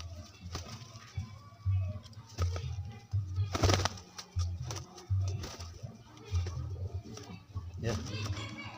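Low, repeated cooing of giring pigeons in soft rhythmic pulses, close by, with rustling and some mixed background noise throughout.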